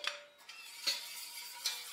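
Metal utensil scraping the last lemon and egg mixture from a bowl for a lemon meringue tart, with three brief scrapes and clinks, close and fairly quiet, no talk.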